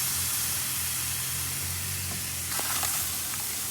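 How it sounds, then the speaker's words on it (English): Smash burger patties sear on a hot griddle with a steady, loud, broadband sizzle and hiss, plus a brief burst of crackle near the end. "hold it down for like a good 10 seconds so we can hopefully get a good sear on there"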